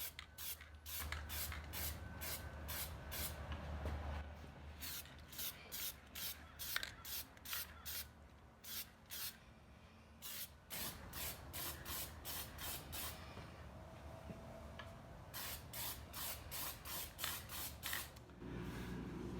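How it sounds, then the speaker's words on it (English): An aerosol can sprays black paint onto a turned wooden bowl in repeated short hissing bursts, many quick pulses with brief gaps, close and fairly loud, with no talking. "I'll probably spray a light coat of black"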